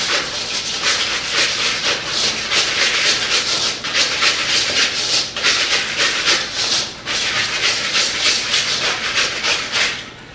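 Cream cheese and softened butter being mixed in a bowl for cheesecake, a loud close scraping and swishing that repeats in steady strokes with brief pauses.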